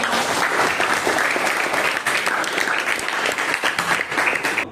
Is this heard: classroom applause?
yes